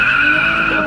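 A car's tires skidding under hard braking, one sustained high squeal held steadily for under a second, loud and close.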